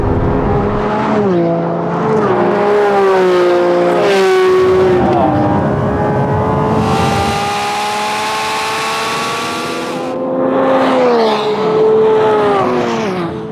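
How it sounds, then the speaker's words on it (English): V12 Lamborghini Revuelto and Aventador Ultimae accelerate hard in a drag race, engines wailing upward through rising gear changes with sharp shift breaks, loud and close, then a rushing wind-like passage and a renewed climbing scream. "you've got like really good explosive acceleration off the line there"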